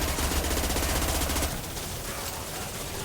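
SMG in Mass Effect 2 firing armor-piercing ammo in a rapid, loud sustained burst for about a second and a half, then fading into a softer lingering tail of combat noise.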